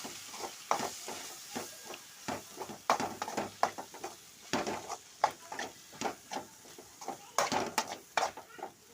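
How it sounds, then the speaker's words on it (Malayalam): Ground masala being stirred into beef in a pan for Kerala-style beef peralan, with repeated scraping, clinking strokes of a spoon against the pan over a soft sizzle, close and steady with no talking. "പൊടിച്ച മസാല കുറച്ച് ചേർത്ത് കൊടുക്കാം നന്നായിട്ടൊന്ന് ഇളക്കി"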